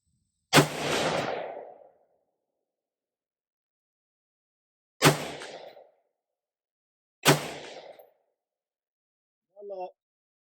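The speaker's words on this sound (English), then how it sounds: "let's see if we can hit that little tiny one down at 100 yards" A 5.56 mid-length rifle with a 13.7-inch barrel fires three loud, sharp shots at a steel target 100 yards away, each with a rolling outdoor echo, then a brief voice follows.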